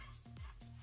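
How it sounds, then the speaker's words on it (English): Dogs yip and whimper in a couple of short, faint bursts against a quiet room, with a brief higher whine near the end. "Sorry about my dogs. They are going doggy school."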